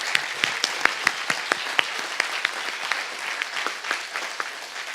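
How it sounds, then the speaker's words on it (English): Audience applause at a symposium on artificial intelligence and inclusion, a moderately sized crowd clapping with distinct sharp individual claps standing out over a steady background of hand claps. "So a round of applause for ITS team,"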